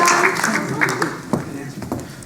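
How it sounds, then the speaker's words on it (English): An audience applauds at a live hosted event, a burst of scattered clapping that thins out over a couple of seconds. "Please give them a big round of applause."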